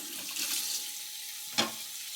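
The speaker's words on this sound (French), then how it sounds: "On va rincer ça" Food being rinsed under a running kitchen tap while making poutine, a steady hiss of water flowing for about two seconds with a brief splash near the end.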